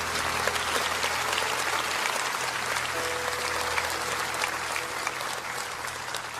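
Sustained applause from a large evangelistic gathering, a thick continuous patter of clapping hands at moderate volume, with crowd murmur and a faint musical tone blended beneath.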